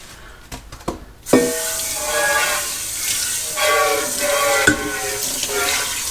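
Tap water runs steadily over a Berkey water filter part as it is rinsed under the faucet, with splashing and shifting flow after a few brief clatters at the start.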